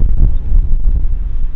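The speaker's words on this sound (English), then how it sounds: "It's very windy." Strong wind buffets the microphone in a loud, low, continuous rumble with gusty fluctuations.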